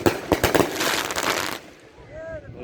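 A firework going off at a Fourth of July celebration, a loud crackling burst of sharp pops in the first second and a half, followed by quieter sounds as a voice speaks.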